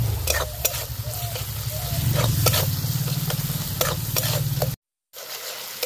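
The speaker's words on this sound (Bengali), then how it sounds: "দিয়ে মশলাগুলো ভালো করে কষিয়ে নেব।" A pan of spices sizzles as they are sautéed with fried tomato and onion, chili powder, turmeric, salt and a little sugar. Steady frying hiss is broken by repeated spatula scrapes, then cuts briefly to silence near the end.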